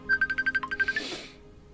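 A mobile phone's incoming-call ringtone on a boat plays a rapid run of about a dozen bright electronic beeps, then breaks into a brief noisy burst before fading.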